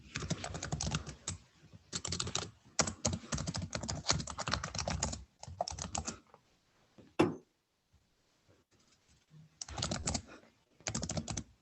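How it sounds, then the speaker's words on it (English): Participants typing on computer keyboards during an online workshop: dense bursts of rapid key clicks in runs of a second or more, separated by short pauses, with one sharper knock midway and no talking. "This typing sound is like music to our ears, isn't it?"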